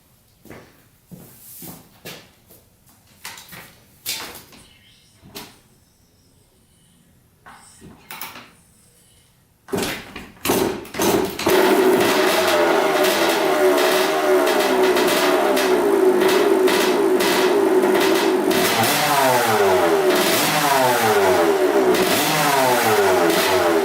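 A few scattered clunks and thumps, then an engine catches and roars, revving loudly and steadily with pitch swells, close by.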